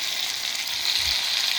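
Tomatoes hitting a hot pan with cashews, a steady bright sizzle of frying that holds evenly for a moment, close and fairly loud.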